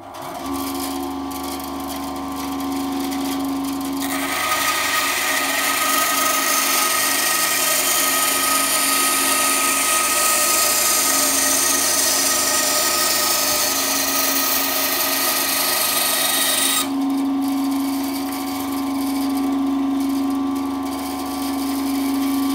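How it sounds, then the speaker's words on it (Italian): A small band saw whines steadily, its pitch rising into a harsher buzz as it bites through pallet wood for several seconds, then easing back to idle. "per tagliare i pezzettini che mi servono per completare il piano uso la mia piccola sega nastro"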